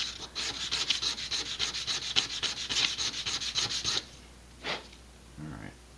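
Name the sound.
sanding wood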